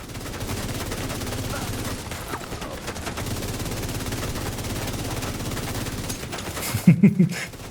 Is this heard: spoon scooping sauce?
no